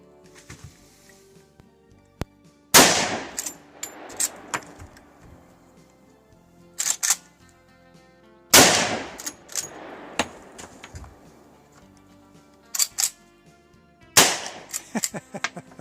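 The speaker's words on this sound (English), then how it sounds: "We're going to do a little recoil test, 30-30, 35, 44, and 45-70." Lever-action rifles chambered in 30-30, 35, 44 and 45-70 fire single loud, sharp shots, each with a ringing tail, spaced a few seconds apart, with faint handling clicks between them.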